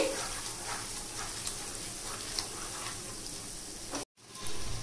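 Sesame seeds and poppy seeds roast in a dry pan on a stove, giving a steady, soft crackling sizzle that runs continuously close by, with a brief dropout near the end before it resumes.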